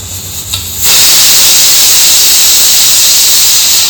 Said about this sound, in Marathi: इकडे मी कुकरला बटाटे शिजायला घातलेले आहेत